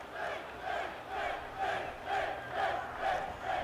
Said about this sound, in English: The crowd getting behind the WWE Champion Finn Balor chanting Finn.